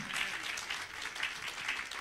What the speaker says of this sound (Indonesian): Saudara, tepuk tangan bagi Tuhan yang lebih meriah.